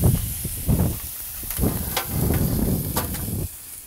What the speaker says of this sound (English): And the meat is sizzling.